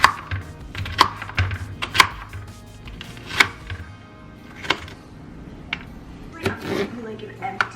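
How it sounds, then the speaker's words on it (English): Knife chopping green peppers and onions on a cutting board at home, a string of sharp, irregular knocks at close range with a few louder strikes and brief pauses between them. "I'm going to slice up my green peppers and onions"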